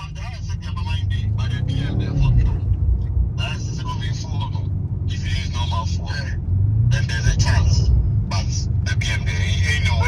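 A tuned car engine rumbles and revs loudly and continuously nearby, with deep low throb and surges, while people talk over it.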